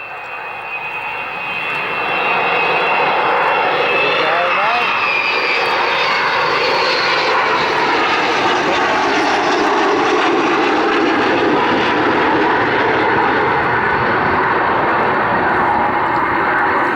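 Avro Vulcan XH558, a 1960 bomber, flying at the Cosford airshow, its jet engines building to a loud, sustained roar that fills the clip and holds steady as it passes.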